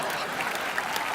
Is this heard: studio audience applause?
yes